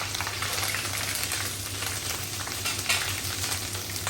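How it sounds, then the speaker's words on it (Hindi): Cumin and garam masala sizzle steadily in a hot cooking pot, a close, even crackling hiss with a light stir or scrape near the end. "ये मैंने जीरा डाला, ये गरम मसाला डाल रही हूँ।"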